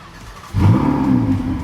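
A Ferrari 488 GTB fires up: a quiet lull, then an abrupt engine catch about half a second in that settles into a loud, steady, rumbling idle close by.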